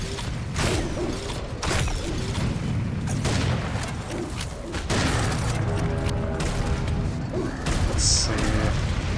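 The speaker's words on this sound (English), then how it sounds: "He's almost dead, so I'll just pump a few more rockets." A rocket launcher in the video game Serious Sam fires a string of rockets, booming blasts and crashing impacts mixed with mechanical clanks and creaks over dense, continuous game noise.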